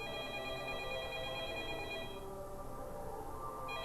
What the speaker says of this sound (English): Anybody gonna get that phone?